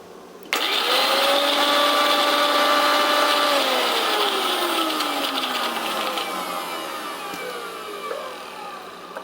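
An electric mixer grinder grinding coconut chutney (katta chammanthi) in a Kerala home kitchen: the motor starts abruptly and whines loudly, its pitch slowly dropping as the load grinds down, then stops.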